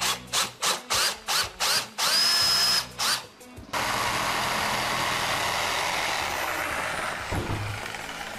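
A power drill with a drill bit boring a starter hole for a jigsaw cut during a bathroom vanity countertop renovation: several short revving bursts, then a long, steady, loud whine as the bit grinds through.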